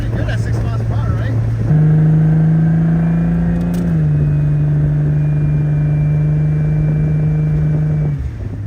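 A 1994 Toyota Supra with a six-speed manual pulls in second gear, its engine holding a loud, steady drone that steps up in pitch and then settles at a constant tone for several seconds before easing off near the end.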